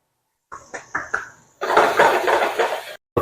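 Sausage seasoned with a salt and pepper mix sizzles in a hot pan, starting with a few quick clinks of utensils on the pan, then a loud, steady hiss of sautéing that cuts off abruptly.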